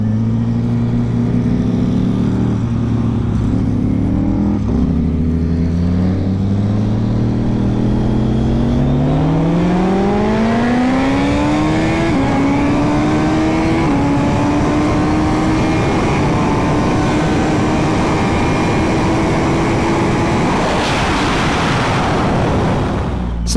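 Motorcycle engines, a Ducati SuperLeggera V4 and a built-motor Suzuki Busa, rev loudly up close, their pitch climbing in long rising sweeps before holding a high steady roar, with no talk.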